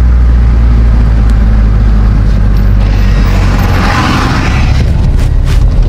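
Car fitted with a Greddy chambered muffler running with the windows closed, giving a loud, muffled low engine rumble that holds steady throughout, with no talking.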